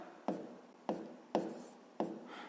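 Pen or marker strokes on paper while working a fifth-grade fractions exercise, four short scratchy bursts at a steady pace, close and quiet with no talking.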